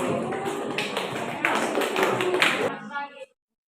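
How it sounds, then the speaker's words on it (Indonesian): A classroom group claps hands in a brisk, fairly close burst of clapping that swells and then cuts off abruptly. "Oke, tepuk tangan dulu."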